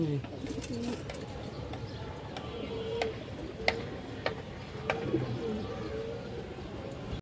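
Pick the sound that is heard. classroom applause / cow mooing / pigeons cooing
pigeons cooing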